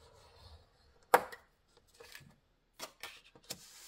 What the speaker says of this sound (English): Got my scoreboard here, and I'm going to score 1/2 inch